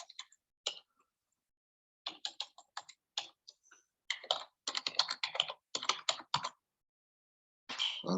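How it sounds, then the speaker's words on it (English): Close, crisp keyboard typing in irregular bursts of rapid clicks separated by short pauses, with no voices. "I'm just typing some fun stuff here."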